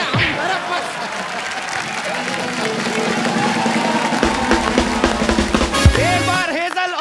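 A studio audience at a comedy talk show claps and cheers in a dense, continuous wash, with talk and laughter mixed in and a few louder claps standing out near the end.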